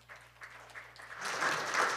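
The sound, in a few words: audience applause welcoming panelists on stage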